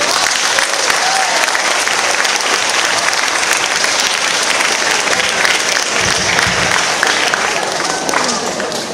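A lecture audience breaks into a long, full round of applause for the mayor, many hands clapping loudly and continuously before easing off slightly at the close.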